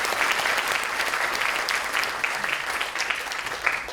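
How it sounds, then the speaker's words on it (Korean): Sustained audience applause fills a symposium hall, dense steady clapping from many people for several seconds without a break. "큰 박수 부탁드리겠습니다."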